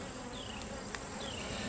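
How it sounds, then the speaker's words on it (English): Honeybees buzzing around an open hive, a soft continuous hum with individual bees droning past close to the microphone. "There's a lot of bees."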